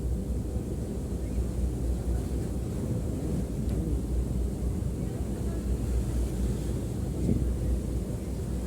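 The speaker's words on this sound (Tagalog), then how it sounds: "ang lakas ng hangin" Low, rumbling wind buffets the microphone in a steady, fairly faint stream with slight gusts.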